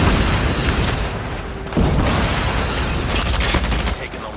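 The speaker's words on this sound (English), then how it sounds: "Friendly airstrike incoming." Airstrike explosions in the video game Call of Duty Mobile during a clan war match, a loud continuous barrage of booms and bursts with a sharp hit partway through, layered with game noise.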